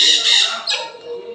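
A cockatoo in a shopping mall gives one loud, harsh squawk that sounds close and fades over about a second and a half, with no talking.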